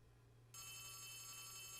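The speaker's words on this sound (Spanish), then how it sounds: "Está el teléfono sonando." An electronic telephone ring from the horror video game Poppy Playtime Chapter 3 starts abruptly after a short hum and holds as a steady bright tone, faint and alone.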